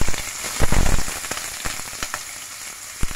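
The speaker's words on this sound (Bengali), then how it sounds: "তেলটা আমার গরম হয়ে গেছে, এখন আমি পেঁয়াজ কুচি গুলো দিয়ে দিচ্ছি।" Chopped onions sizzle and crackle loudly in hot oil, a dense, steady frying hiss with sharp bursts as they hit the pan, no voices.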